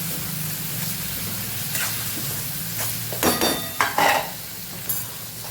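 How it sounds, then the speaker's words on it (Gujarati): Masala is stirred into gunda curry in a hot pan, a low sizzle with a few louder scraping and clattering bursts of the spoon against the pan in the second half, close by and without speech. "મસાલો પણ સરસ આપણે મિક્સ કરી દઈશું"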